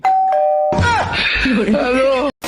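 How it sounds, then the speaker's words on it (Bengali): A single electronic doorbell tone sounds, then a person starts speaking loudly right after it. "আপনি কলিং বেল বাজালেন কি করে"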